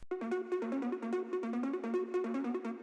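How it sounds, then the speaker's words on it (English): A lower synth pluck layer supporting the main synth line in a trap beat, playing a repeating bouncy pattern of short plucked notes with a steady rhythm, clear and alone without any voices. "We also have this lower pluck layer"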